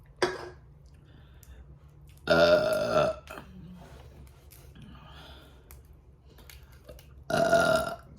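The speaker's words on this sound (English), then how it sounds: "I've been so focused on eating, I have not burped." Loud, drawn-out burps after a meal of Cajun crawfish from a seafood boil, two long belches spaced several seconds apart with a short gasp at the start and quiet breathing between.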